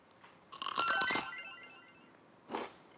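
A crisp, brittle crunch as fried seaweed snack (gimbugak) is bitten, followed by a pause and a second shorter crunch, close and clear in a quiet room.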